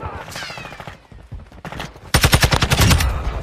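Rapid bursts of automatic gunfire in Call of Duty Modern Warfare 2, first scattered and then a loud sustained volley near the end, with brief voice lines in between.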